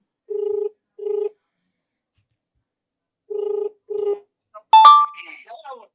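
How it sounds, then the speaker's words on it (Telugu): A telephone line rings while a phone-in call is placed during a live TV discussion: two pairs of double ring tones separated by silence, clear and close, followed by a brief connection chirp and a voice answering. "జుహానీ గారు ప్రస్తుతం మనకి ఫోన్ కాంటాక్ట్లో అందుబాటులోకి వచ్చే ప్రయత్నం చేద్దాం"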